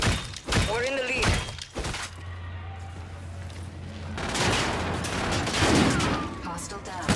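Gunfire in a Call of Duty video game: sharp shots and clattering bursts mixed with game effects and a radio-style voice calling out, with a steadier spell of firing toward the end.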